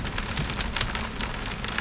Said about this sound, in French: Je sais pas si on entend le bruit de la grêle sur le roof du bateau